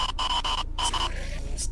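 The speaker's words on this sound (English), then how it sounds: "he plays a sound called Enderman Stare" Enderman Stare sound from the Minecraft video game: a loud, dense stretch of buzzing, static-like tones broken by brief gaps, with bright shrill bursts near the end, no voices.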